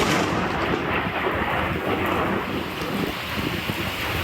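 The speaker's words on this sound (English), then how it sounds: "when you get a big lightning crack like that, the thunder crack, well, that's going to shake the camera just a little bit." A severe thunderstorm with a deep, sustained rumble of thunder under heavy wind and rain noise battering the microphone, loud and continuous throughout.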